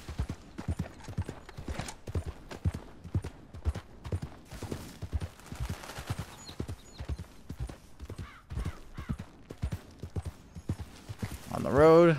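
A horse's hooves clip-clop at a steady, even trot in Red Dead Redemption 2, clear and close throughout, while a person talks and sings over the hoofbeats.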